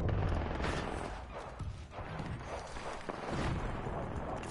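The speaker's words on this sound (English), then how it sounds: "What's the burst? Is that the hemlock?" Rapid bursts of gunfire from the Hemlok burst rifle in Apex Legends, quick clustered shots repeating across a few seconds at moderate loudness, with faint footsteps and game ambience beneath.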